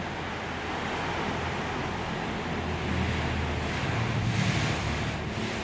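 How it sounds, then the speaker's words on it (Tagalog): Continuous roaring typhoon wind with a broad rushing hiss of wind and rain, steady and loud, with no voices and no distinct breaks. "Sobrang lakas po ng hangin tsaka ng ulan."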